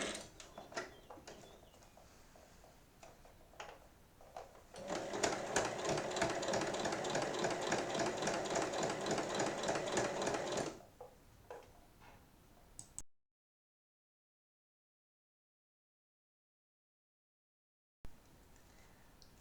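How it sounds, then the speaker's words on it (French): A sewing machine topstitching around the edge of fabric for a fabric catch-all tray: a few short stitch bursts, then a sustained rapid mechanical ticking run for several seconds before stopping, fairly close. "on va venir fermer l'ouverture par une piqûre, plutôt une surpiqûre qu'on va faire tout le tour"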